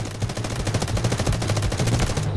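Rapid automatic gunfire from a weapon in the mobile shooter Delta Force Mobile, a dense unbroken burst of loud, evenly spaced shots.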